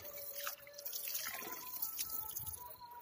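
Water from a village hand pump in Pero Langah, Gurdaspur, trickles and drips steadily at close range, a continuous wet splashing with small dripping accents and no talk.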